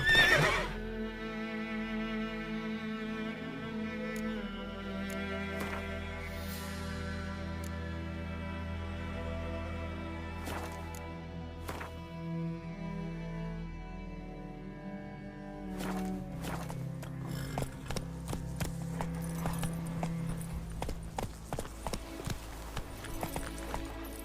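Roach, the horse in The Witcher 3 video game, whinnies and clip-clops through a steady layered game soundscape with music, the hoofbeats sharpening into a faster run near the end.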